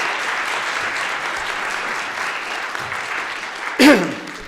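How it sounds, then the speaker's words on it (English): A conference audience applauds the organizers, Kay and her team, at a national security conference: steady, dense clapping throughout, swelling briefly near the end with a short voiced sound over it. "If we could just give them another round of applause."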